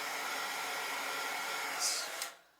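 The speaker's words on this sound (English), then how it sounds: "I am using my heat gun to kind of" A heat gun blows a steady, loud airy whoosh, then shuts off abruptly near the end, leaving quiet.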